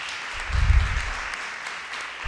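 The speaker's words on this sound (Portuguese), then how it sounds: "E o professor Arley Peripólio, também uma salva de palmas." Audience applause after a lecturer is introduced at an autism talk, a short burst of clapping that swells and fades within a couple of seconds, moderately loud in a hall.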